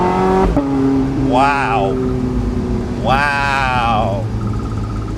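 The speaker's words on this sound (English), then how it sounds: "Exhaust next to your head, game changer." From inside the cabin of a Porsche 918 Spyder, the exhaust mounted right behind the occupants' heads roars through two rising revs over a steady drone, with a brief exclamation from the driver.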